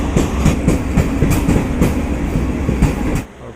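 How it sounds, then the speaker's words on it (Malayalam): A Vande Bharat express train passes at Alappuzha, a loud, continuous rumble with rhythmic clickety-clack of wheels over rail joints, the roar cutting off abruptly near the end as the last carriage goes by. "നമ്മുടെ വന്ദേ ഭാരത് ട്രെയിൻ വരാൻ വേണ്ടിയിട്ടായിരുന്നു"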